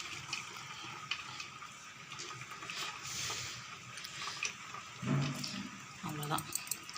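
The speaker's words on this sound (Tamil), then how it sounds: "தண்ணியை வடிச்சிட்டு எடுத்துருங்க ஃப்ரெண்ட்ஸ்" Water drains from cooked basmati rice for biryani, a steady close splashing trickle with occasional soft clunks of the pot or strainer, and no voices.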